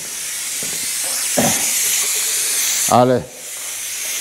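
Compressed air hisses steadily and loudly from an Arbos 3055 tractor while someone speaks briefly over it.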